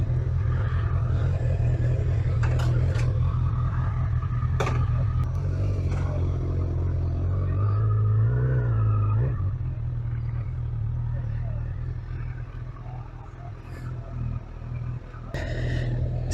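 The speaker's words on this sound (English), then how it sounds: "This is brand new naked bike, 1000cc" A brand-new 2021 Honda CB1000R Black Edition 1000cc naked motorcycle idles with a steady low rumble and a brief rev in the middle, heard close and continuous, with a person talking over it.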